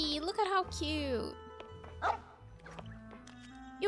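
A cute puppy in the video game Genshin Impact gives a few short, high yipping barks early on, followed by quieter game sounds and a voice speaking over them.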